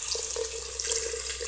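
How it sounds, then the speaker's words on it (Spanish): Water poured into a cooking pot while making Ecuadorian menestra, a steady, fairly quiet splashing stream that runs the whole time with no voices. "Pongan agua previamente que ya esté hervida"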